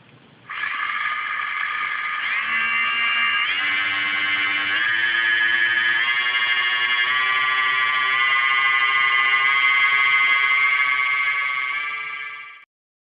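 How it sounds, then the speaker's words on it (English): Electric motor driven by an ESC as the throttle is raised in 10% steps, giving a loud, continuous whine that climbs in distinct pitch steps before cutting off abruptly. "The motor is now spinning at full speed."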